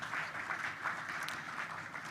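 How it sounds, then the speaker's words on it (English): Applause from the audience at a Lagos music business conference, a soft, continuous patter of many hands clapping, even in level throughout and somewhat distant. "A round of applause, please."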